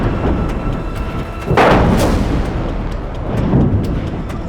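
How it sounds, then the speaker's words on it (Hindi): Repeated blasts from strikes on telecom towers in the Metula area, heard as a loud, continuous rumbling barrage with a heavier burst midway and another swell near the end. "आप देख सकते हैं जहां एक के बाद एक लगातार कई धमाके हो रहे हैं"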